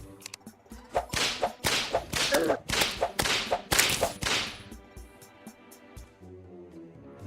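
Whip attacks in the video game Terraria crack in quick repeated bursts, about a dozen sharp lashes in an uneven rhythm, loud and close, with softer game sounds in the background and no talk.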